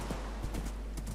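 Horse hooves clip-clopping in Minecraft, a few quick, muffled hoof steps close by over a steady background hum.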